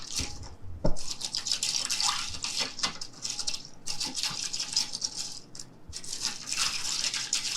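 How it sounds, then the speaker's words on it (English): A colored creamer mixture is stirred in a container, making close, fast, wet swishing and scraping that runs steadily with brief pauses. "Let's stir it up."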